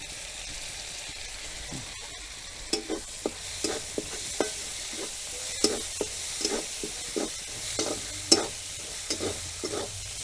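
Ginger garlic paste frying in a pan with chopped onion, a steady low sizzle broken by a series of sharp spatula scrapes and clinks that grow more frequent toward the end, close and moderately loud with no talking.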